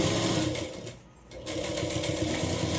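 A sewing machine stitching the hem of an umbrella frock runs in a steady rapid whir, pausing briefly midway before resuming at close range.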